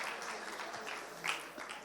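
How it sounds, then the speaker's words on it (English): Audience at an in-person UK sales awards evening clapping, a fairly quiet, diffuse patter of applause with a slightly louder burst partway through, heard somewhat distant in a large room. "So give yourself a round of applause for being outside the house."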